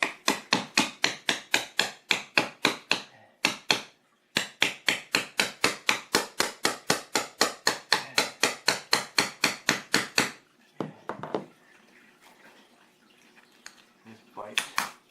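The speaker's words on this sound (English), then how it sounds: "So I got an old window scraper here." Rapid series of sharp scraping strokes from an old window scraper worked against kitchen tiles, roughly forty even, loud rasps in steady rhythm with a brief pause, ending in quieter shuffling and faint background noise.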